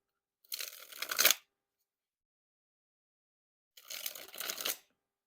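A Warner Brothers 100th Anniversary playing card deck is dribbled from hand to hand, making two separate papery fluttering rushes of falling cards, each about a second long, with silence between them.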